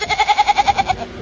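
Goats bleat in a quick, rhythmic run of about nine short, nasal pulses, loud and close, then trail off.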